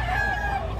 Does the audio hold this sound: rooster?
yes